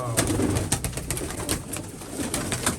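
Chinese pigeons kept in a loft coo in soft repeated throaty calls, close by, with light rustling and a faint voice in the background.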